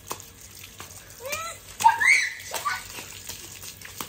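Water splashing on a lawn during kids' outdoor water play, with intermittent splashes and swishes, a few sharp bird-like squeaks, and faint background noise throughout.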